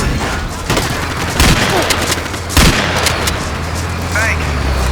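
Artillery fire in Battlefield 2 on the Jalala map: loud, rumbling booms over constant battle noise, with two heavier blasts standing out. Voices talk over the din.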